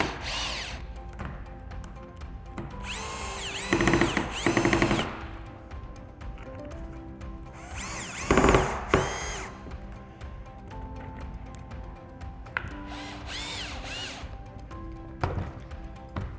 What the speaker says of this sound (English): if you're using a drill, make sure you've got it set to quite a low torque setting